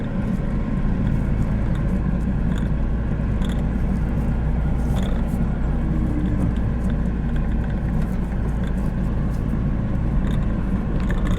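A car engine strains uphill in third gear on a valley road at night, giving a loud, constant, heavy rumble that holds steady throughout with no clear speech.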